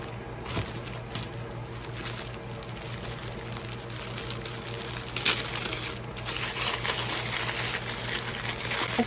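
Tissue paper crinkles and rustles in bursts while a box is unpacked, close and moderately loud, over a constant background fan hum.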